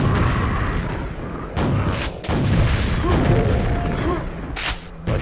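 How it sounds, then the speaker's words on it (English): Rocket launcher in the video game Quake firing, a run of heavy booming blasts and crashing thuds close and loud, with brief gaps between explosions. "Rocket launcher, alright."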